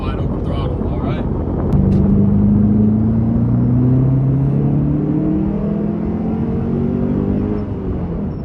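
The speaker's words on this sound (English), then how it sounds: "I'm gonna let it warm up a little bit, and then I'm gonna give you all a wide open throttle" A car engine running on an SCT tuner custom tune climbs steadily to wide open throttle, a loud, rising roar with rumble that holds for several seconds, close by, with no talk over it.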